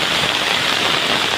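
Heavy, sudden afternoon rain pours down in a steady, dense hiss that fills the whole stretch without a break, close and fairly loud, with no voices over it.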